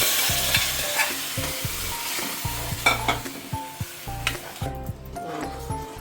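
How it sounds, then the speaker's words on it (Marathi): Mashed vegetables for pav bhaji go into masala frying in oil in a pan, with loud close sizzling and rhythmic knocks and scrapes of a spatula stirring the mixture. "आता मी मॅच केलेली भाजी टाकत आहे।"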